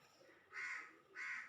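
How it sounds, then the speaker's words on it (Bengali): Crows cawing over an open rooftop where pigeons are kept, two loud harsh calls in quick succession with a short gap between, fairly close, no talk. "আমার পিছনে দেখেন কাক কিভাবে ডাকাডাকি করতেছে"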